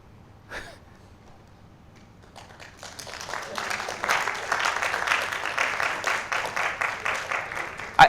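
Scattered audience applause after a design thinking talk, starting faint with a few isolated claps, then building into a moderate steady round of clapping from a small room.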